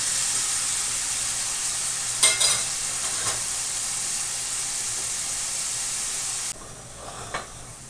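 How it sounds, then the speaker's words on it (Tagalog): Sweet potato (kamote) sizzles steadily in hot cooking oil, giving a constant close frying hiss with a few brief stirring clatters and no talking. "Ayan, kamote. Piprito natin."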